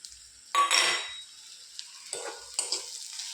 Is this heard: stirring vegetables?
yes